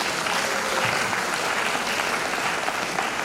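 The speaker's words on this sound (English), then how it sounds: "I think they deserve an applause for that" An audience at an International Women's Day event applauds continuously, a dense, even wash of clapping at steady volume from start to finish.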